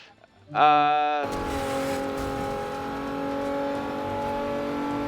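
A car in a racing video game starts with a rising engine tone, then settles into a steady, droning hum at speed, with faint tire noise and a voice talking over it.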